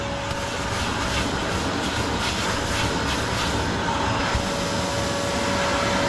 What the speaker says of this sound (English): give it a vacuum